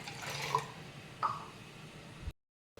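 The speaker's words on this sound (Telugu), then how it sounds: "నేను నీళ్ళు పోస్తున్నాను." Soft splashing of water being poured, two brief gurgling bursts under a quiet background, then a short silence.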